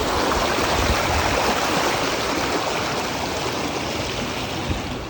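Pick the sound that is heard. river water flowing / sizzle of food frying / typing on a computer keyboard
river water flowing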